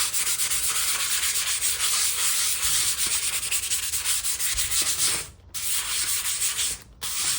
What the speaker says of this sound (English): We're going to go ahead and take a little bit of sandpaper, just like this.